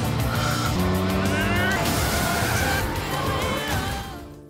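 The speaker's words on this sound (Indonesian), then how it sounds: "Pada satu momen mereka tiba-tiba menabrak mobil Direktur Lee dari samping yang cukup keras dan membuatnya terpental dan menabrak pembatas jalan." A car collision in a film scene, with a director's car struck hard from the side and thrown into a road barrier. Dense, loud engine roar and screeching tires run continuously and then fade slightly near the end.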